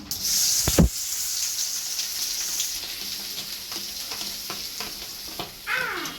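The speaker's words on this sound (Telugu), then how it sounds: "ఉల్లిపాయలు వేసుకున్న తర్వాత ఈ రెండింటిని ఇలా వేపుకోవాలండి ఇలా వేపుకోవాలి" Sliced onions with tempering spices frying in hot oil in a pan, a steady close sizzle with one loud utensil knock early on and repeated stirring scrapes throughout, no voices.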